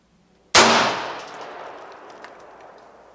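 A single 9mm pistol shot fires a 147 grain full metal jacket round over a chronograph, one sharp loud crack with a ringing decay trailing off for a few seconds, no talking.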